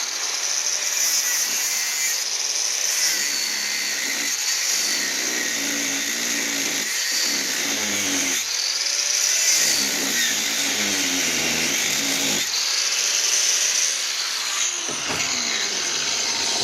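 A power tool grinds and polishes a piece of brass held in a small vise on a workbench corner during a lathe compound repair: a loud, steady, harsh whine that swells and eases in waves with no pauses and no talking.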